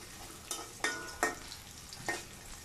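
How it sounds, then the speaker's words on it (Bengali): Onions dropped into hot oil, heard as a soft steady sizzle with several sharp scraping strokes of a spoon in the pan, close and clear. "সেই পেঁয়াজটি গরম তেলের মধ্যে দিয়ে দিচ্ছি।"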